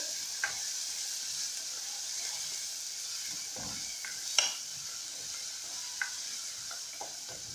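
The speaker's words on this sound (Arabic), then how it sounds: "الزيت هنا بقى سخن، هنزل بقى بالبصل اللي انا فرماه" Chopped onion frying in hot oil, a steady close sizzle and hiss with a few soft stirring scrapes and clicks from a utensil, no voices.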